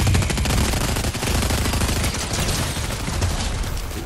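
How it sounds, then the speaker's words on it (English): Dense rapid gunfire in the Fortnite battle royale game, continuous automatic bursts that are loud and fill the whole stretch. "Who are they shooting at?"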